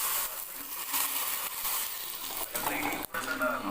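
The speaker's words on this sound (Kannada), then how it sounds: "ಒಗ್ಗರಣೆ ಅನ್ನೋದು ಇದಕ್ಕೆ ಬೆರೆಸೋಣ ಅಂತ ಹೇಳ್ತೀನಿ" Tempering sizzles and crackles in a pan for tomato rasam, a dense continuous frying hiss with stirring scrapes and a brief dip near the end, close and fairly loud.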